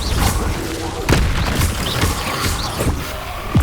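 Fire spell cast in the PS5 game Hogwarts Legacy, a loud burst of whooshing flame with booming impacts over dense game effects and music.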